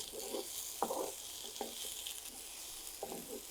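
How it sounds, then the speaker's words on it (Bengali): Tomato frying in oil for a restaurant-style chicken gravy masala, giving a steady soft sizzle broken by a few clear scraping stirs of a spoon in the pan. "টমেটোটাকে ভেজে নেব।"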